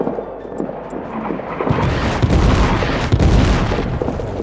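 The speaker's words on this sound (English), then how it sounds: "Heads down artillery." Artillery fire in the World War I trench game All Quiet in the Trenches: deep booming blasts roll in after a quieter opening and keep rumbling heavily, with sharp thumps near the end.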